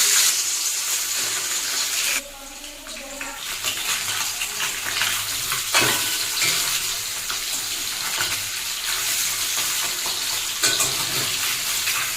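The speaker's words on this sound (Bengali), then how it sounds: "তেলটা গরম হয়ে গেছে এতে এবার দিয়ে দিচ্ছি মাছগুলো" Pieces of rohu fish frying in hot mustard oil in a kadai crackle and hiss loudly and close, with a sharp rise in sizzling partway through that then continues as a dense, uneven spitting.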